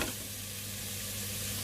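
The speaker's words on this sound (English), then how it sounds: "all we're doing now is we're just frying the onions to get a little bit of colour on them" Onions fry in a pan and are stirred, producing a steady, close sizzle with a faint low hum underneath and no talking.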